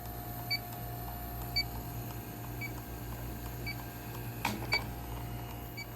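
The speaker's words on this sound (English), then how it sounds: "Go over it with the leak detector." A refrigerant leak detector is passed over a 2006 HVAC coil. It gives faint, regular beeps about once a second over a low steady hum, with a couple of brief clicks midway.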